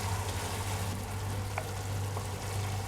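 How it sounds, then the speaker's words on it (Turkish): Minced meat frying in a pan with cumin, black pepper and salt, giving a steady, even sizzle with a low constant hum underneath and no talking. "Kavrulan kıymanın üzerine bir miktar kimyon, bir miktar karabiber, bir miktar tuz ekleyip karıştırıyoruz."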